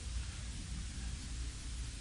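Heavy rain pours down as a dense, even hiss of broadband noise with a low rumbling undertone, steady and unbroken throughout.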